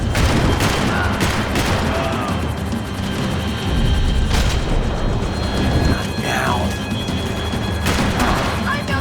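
Rapid gunfire and crashing impacts from a chase shootout in the video game Max Payne 3, dense and loud throughout, with shouted voices mixed in.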